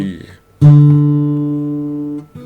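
A single open D (fourth) guitar string is plucked once and rings out low and steady for about a second and a half before being cut short.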